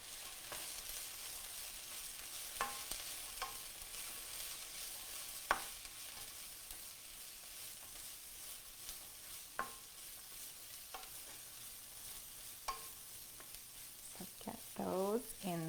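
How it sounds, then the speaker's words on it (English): Purple cabbage sautéing in a pan for pad thai, a soft steady sizzle broken by occasional stirring clinks and scrapes. "So now I'm going to add in the purple cabbage first"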